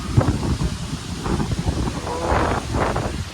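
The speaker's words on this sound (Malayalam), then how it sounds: "ഓ നല്ല നല്ല കിടിലം കാറ്റുണ്ട്, ഒരു രക്ഷയില്ല." Strong wind roars steadily by the sea on the road to Chellanam near Kochi, buffeting the microphone in loud, continuous gusts with a faint wash of surf beneath.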